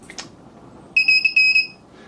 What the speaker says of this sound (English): rather nasty sounding buzzer connected over here, and again through the code, just turning on when this proximity sensor triggers